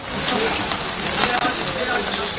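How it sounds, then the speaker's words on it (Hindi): Heavy rain pours down in Mumbai as a dense, unbroken roar of hissing downpour, loud and constant throughout. "लगातार अब भी बारिश जारी है"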